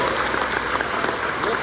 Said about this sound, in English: would you raise your hand so we can give you a round of applause?